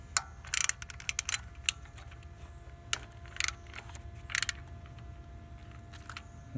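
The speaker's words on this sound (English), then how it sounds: "And now I'm just going to hit this with a 10mm socket." A ratchet with a 10mm socket loosening a bolt on a Toyota Sienna engine, heard as several short bursts of rapid clicking at close range separated by pauses, over a low background hum.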